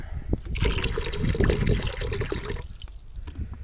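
Fresh water trickles and splashes steadily into a bucket outdoors, a close, continuous liquid pour that thins to a fainter dribble near the end.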